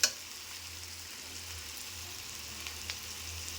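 Spice paste frying in a pan as a little water is added, giving a steady, soft sizzle and bubbling with a sharp splash at the start and a few faint clinks of stirring.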